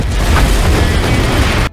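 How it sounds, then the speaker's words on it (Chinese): Anime battle explosion from a grenade blast, a loud sustained roaring boom filling the whole stretch before cutting off abruptly, no talk. "又是一次剧烈爆炸，大姐大兴奋到不行"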